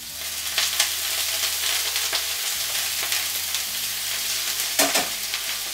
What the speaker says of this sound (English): kale's going in. This will make a bit of noise.